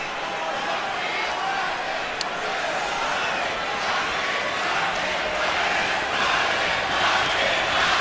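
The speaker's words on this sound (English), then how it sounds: "now they're chanting Marquez, Marquez, Marquez" A boxing arena crowd roars in a dense, continuous wash of voices, loud and sustained, as fans chant Marquez's name during the Pacquiao–Marquez bout.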